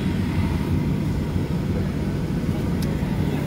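Cabin of a small passenger plane in flight leaving Calgary: a steady, broadband engine and air rumble, low and even throughout, with no talk over it.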